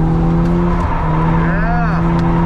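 A Volvo car is being drifted, the engine holding a steady loud drone while a short rising tire squeal cuts in near the end, recorded from inside the car.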